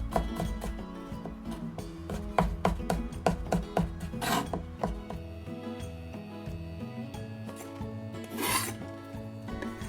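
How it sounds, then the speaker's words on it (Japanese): A knife minces garlic on a cutting board in a home kitchen, making a quick run of sharp taps and scrapes that later thin to a few strokes over soft background music. "ニンニクもみじん切りにしていきます。"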